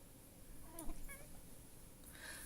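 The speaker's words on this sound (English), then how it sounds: "This is my cat asking, what?" A pet cat meows twice in short rising calls, close and fairly soft, over a quiet room background with no talking.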